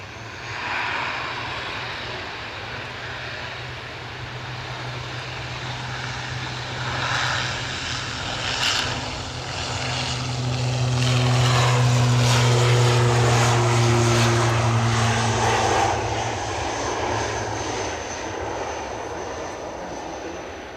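A Falcon business jet makes a short takeoff at Edinburgh airport, its engine roar building steadily from a distance, swelling loudest midway through and then slowly fading as it climbs away.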